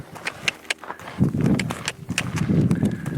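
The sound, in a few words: horse moving, hooves clip-clopping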